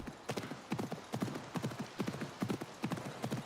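Horse hooves clip-clopping in the video game Assassin's Creed Mirage, a quick regular rhythm of paired hoofbeats, fairly close and moderately quiet, with no talk over them.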